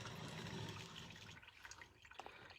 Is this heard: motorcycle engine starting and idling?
no